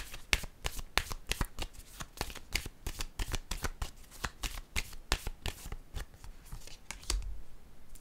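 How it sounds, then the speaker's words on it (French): Tarot cards are shuffled and laid down in a steady run of crisp, close riffling snaps and soft slaps, with a few louder card drops near the end and no talking. "Je vais déposer une carte en cette zone."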